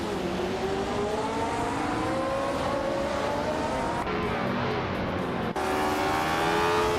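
Race cars, Lola, Ferrari, Porsche and Lotus, lapping a tight circuit: a steady, loud blend of whining engines rising and dropping through the gears, with a brief shift in the mix near the end.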